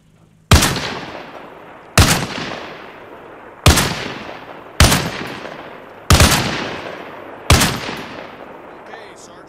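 Six loud single gunshots fired at a steady pace on a training range in Arma Reforger, each a sharp close crack followed by a long echoing tail.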